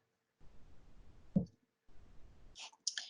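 A computer mouse clicks a couple of times, sharp and close, on an online application's Apply button. The clicks are separated by faint rustling handling noise.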